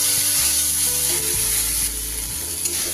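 Spice mixture sizzling steadily in hot oil as it is stirred in a pan, a loud continuous fry with scraping stir sounds and low clatter, no voices.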